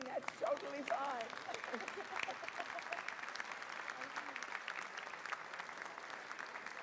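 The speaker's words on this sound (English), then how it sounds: "Somebody wants to keep clapping, that's totally fine." Audience applause at a university fall convocation ceremony, a dense wash of many hands clapping steadily from the hall, moderately loud with a few brief voices and cheers near the start.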